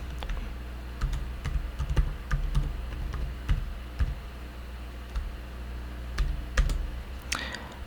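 A password is typed on a computer keyboard, a scattered series of soft key clicks in uneven bursts over a low steady room hum, close and without talk.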